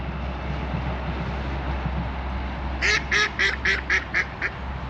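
Waterfowl on a park pond, swans and ducks, give a quick series of about seven honking calls in a row, heard over a low rumble of a distant train and faint background noise.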